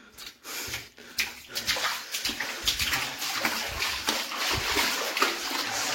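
Someone wades through knee-deep floodwater in a waterlogged farm field near a hillside cave, each step a rhythmic slosh and splash, close and fairly loud, with no talking.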